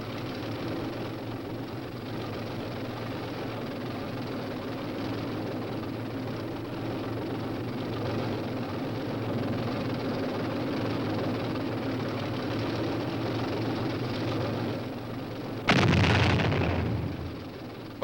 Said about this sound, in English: The enemy is sighted and the powerful new M48 Patton tanks swing into action.